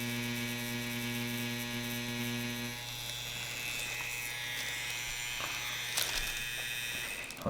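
A tattoo machine buzzing steadily at close range, a continuous electric hum that shifts tone partway through before fading as it winds down.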